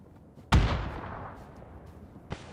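A grenade explodes in the battle royale video game PUBG, one sudden heavy boom with a long rumbling decay, followed about two seconds later by a sharper, quieter distant crack.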